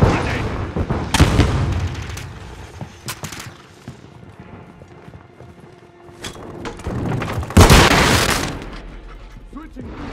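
Thermite grenade in Modern Warfare 2 multiplayer, loud bursts of blasts and crackling gunfire with a big fiery eruption near the end, under shouted callouts and battle noise.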